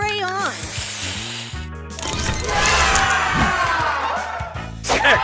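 Busy sizzling spray burst from the spray booster in the Match Masters puzzle game, loud and bright over layered game chimes, whooshes and clattering effects.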